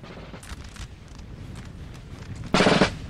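Musket volleys and artillery fire in the Napoleon Total War multiplayer battle game, a scatter of distant crackling shots followed by one loud close blast near the end, with no talk.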